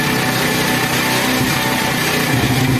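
Honda 70 motorcycle engine revving as its petrol mixture screw is adjusted, a close, steady buzzing drone with small shifts in pitch and roughness, no talk.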